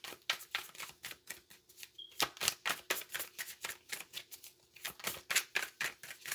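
Tarot cards shuffled by hand, a steady run of close, crisp riffling and flicking bursts in a regular rhythm lasting several seconds, with no talk over it.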